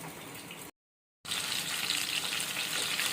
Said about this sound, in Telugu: ఇప్పుడు ఇలా మూత పెట్టుకొని అది బాగా ఫ్రై అవ్వనివ్వాలండి